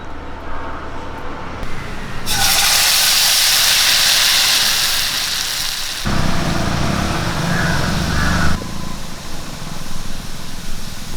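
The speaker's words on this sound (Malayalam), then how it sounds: "ഇനി ഇതിലേക്ക് ഒരു തക്കാളി പേസ്റ്റ് ഒഴിച്ചു കൊടുക്കാം" Tomato paste poured into hot butter in a pan while cooking an egg roast, a loud, close sizzle that bursts in abruptly and hisses steadily, then shifts and eases.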